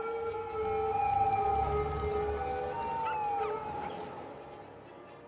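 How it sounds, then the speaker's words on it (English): An ambulance siren wails in a city builder video game as the vehicle races around the city, a faint wavering tone rising and falling over soft background ambience. "An ambulance is just racing around the city"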